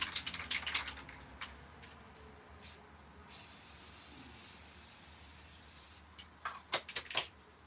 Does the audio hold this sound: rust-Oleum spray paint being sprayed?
yes